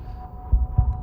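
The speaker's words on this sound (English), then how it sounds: "There is that awful thump, thump, thump, thump, thump, thump sound that you just loathe" Thumping heartbeat sound effect from a tabletop role-playing game session: two heavy, low thuds close together under a steady low hum, loud and near, with no talking.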